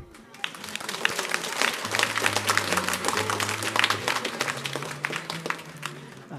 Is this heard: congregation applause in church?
yes